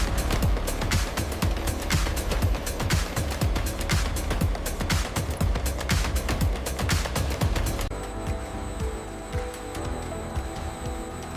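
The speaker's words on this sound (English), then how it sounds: "the large blocks are cut into smaller portions and fed into the industrial shredders" Industrial shredders in a Cheez-It factory chew through portions of large cheese blocks with a rapid, loud mechanical clatter and grinding, easing into a steadier machine hum near the end.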